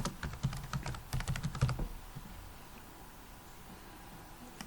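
A computer keyboard clatters as a letter is typed in Microsoft Word, a fast close run of keystrokes lasting under two seconds before the room falls quiet.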